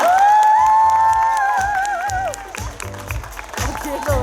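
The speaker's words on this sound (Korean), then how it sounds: "큰 박수 보내주시기 바랍니다." An audience in a cinema open-talk event for the webtoon Along with the Gods claps loudly to welcome a webtoon artist, with steady applause under an announcer's voice that fades in the final seconds.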